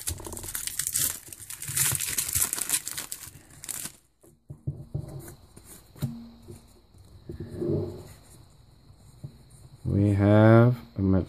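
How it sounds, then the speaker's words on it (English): Pokémon TCG Guardians Rising booster pack wrappers torn open, with crinkly foil rips and crunching plastic up close for several seconds, then scattered handling rustles with a voice speaking intermittently. "Tear these all open real quick."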